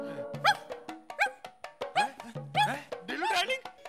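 A person imitates a dog, giving a string of about eight short, yelping barks and whimpers in an uneven rhythm, close and fairly loud, with a voice briefly mixed in.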